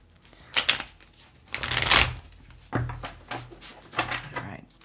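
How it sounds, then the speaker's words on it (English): Tarot cards shuffled by hand, with a few short riffling bursts and one longer, louder cascade of card flicks, heard close and alone with no talk. "one last shuffle."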